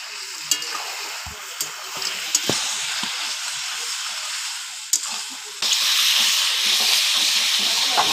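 Chicken meat and fried potatoes sizzle steadily in hot oil while being stir-fried, with scattered scraping clicks of a spoon and a louder burst of frying in the last seconds.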